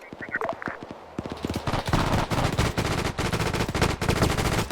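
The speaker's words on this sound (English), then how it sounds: "Just a barrage of MG rounds." Sustained machine-gun bursts in Arma 3 during a WWII-style airborne battle in Greece, a loud, rapid, continuous barrage of heavy rounds with thudding low booms underneath.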